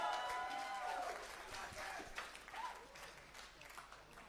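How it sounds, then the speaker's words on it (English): Audience applause with some cheering at a youth rock band competition semi-final, fairly faint and distant, starting fuller and thinning over a few seconds as a sustained tone fades early on. "give them a round of applause"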